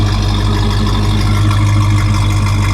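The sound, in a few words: 1969 Buick Skylark engine idling with dual exhausts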